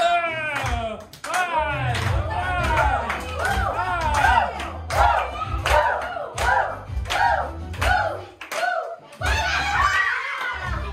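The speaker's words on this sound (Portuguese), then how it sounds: "A torcida tem que bater palma" Party guests at a children's birthday pajama party clap along in rhythmic bursts while children shout, sing and laugh loudly over the clapping.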